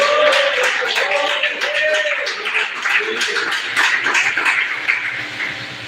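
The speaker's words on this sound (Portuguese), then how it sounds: "E mais palmas para Jesus" A church congregation claps together during a worship service, loud dense clapping mixed with voices and some tonal sounds underneath, filling the room.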